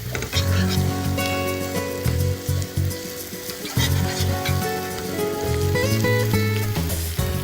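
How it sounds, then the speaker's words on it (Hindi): Chopped ginger frying in a pan, a steady loud sizzle with crackling and occasional stirring scrapes throughout, no voices. "थोड़ा सा कटा हुआ अदरक, हल्का सा चलाएंगे इसे और अदरक को हल्का फ्राई करेंगे"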